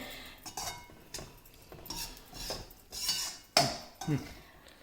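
A utensil scrapes and clinks against a pan while edible gum roasts for dinkache ladu, with irregular close strokes and sharp taps over near silence.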